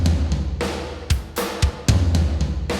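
Dry, unprocessed drum loop in a gothic post-punk style, with punchy low kick thumps and sharp snare cracks falling in a steady, fairly loud pattern, heard alone.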